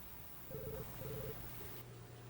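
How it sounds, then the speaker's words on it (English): A telephone rings twice in quick succession with short electronic warbling tones, fairly faint over a steady low hum, then falls silent. "The phone is ringing."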